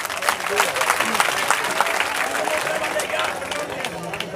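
An audience applauds at an outdoor gathering in Haryana, with dense, steady clapping that carries loudly through the whole stretch alongside crowd noise and some voices.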